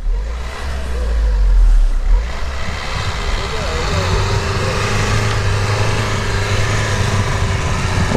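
A Lada Niva on studded winter tyres revs and accelerates, its engine droning loud and steady with a low rumble, while a voice talks over it.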